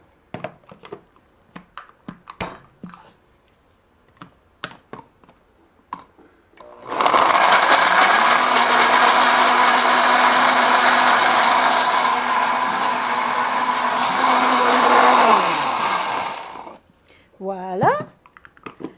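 Blender whirring loudly for about ten seconds while mixing a nori roll filling with salt, a steady high motor drone that dips at the end, with a voice talking before and after.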